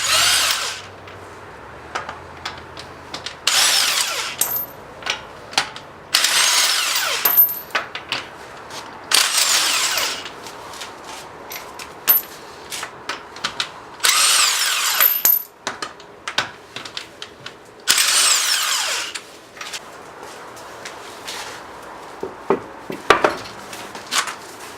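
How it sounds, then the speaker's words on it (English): A power tool spins the wheel lug nuts off a Volvo V8 in loud, close bursts of whirring. Short pauses between bursts carry metallic clinks as the nuts drop and clatter on a hard surface. "Take all your lug nuts out."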